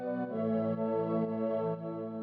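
A sustained organ pad holds steady chords with a slightly wavering, chorused tone, playing alone at a moderate level.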